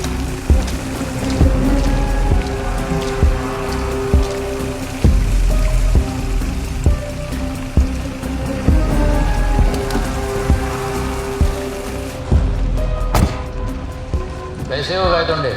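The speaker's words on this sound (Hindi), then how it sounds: "लास्ट में बरसात हो रही है" Steady rain pours down in a tense film scene, a dense, continuous patter on surfaces with low rumbles. Voices talk over the rain, and it thins out near the end.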